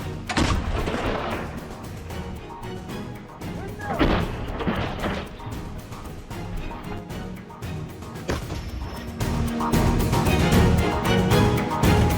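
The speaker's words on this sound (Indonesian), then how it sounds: "Орудие! Выстрел!" Russian artillery guns firing in the Russia–Ukraine war, a run of heavy booming blasts and crashes, loud and close, one after another with rumbling in between, while indistinct voices are briefly heard.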